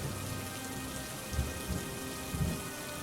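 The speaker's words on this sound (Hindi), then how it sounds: "हे भगवान, ये बारिश भी अभी ही आनी थी।" Steady heavy rain falling in a broad continuous hiss, with a few low rumbling thumps of distant thunder rising briefly through it, no voices.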